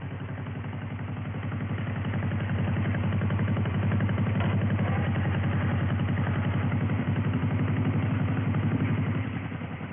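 A 1957 John Deere tractor engine runs steadily while the machine backs up, a close, even, low chugging idle that swells slightly in the middle and tapers at the end, with no voices.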